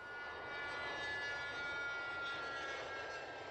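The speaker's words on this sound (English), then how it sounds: "the Cessna Citation on course for Malta on the first leg of its epic journey" A Cessna Citation business jet in flight produces a faint, steady engine drone with a smooth broadband rush and thin high whine, distant-sounding and constant with no voices.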